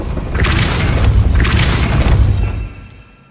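A Depulso spell is cast in Hogwarts Legacy, a loud, booming force blast with crashing, thudding impacts that holds for about two and a half seconds before cutting off sharply.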